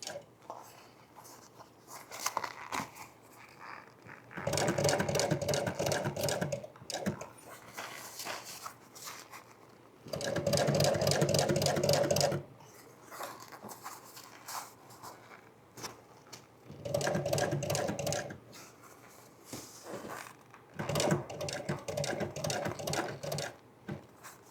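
An upholstery sewing machine stitches fabric close to the welt on a dog-damaged chair, running in four or five loud bursts of rapid stitching a few seconds each, separated by quieter pauses with light handling sounds.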